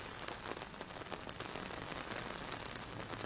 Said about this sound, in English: I think we're just stuck with some good old rain.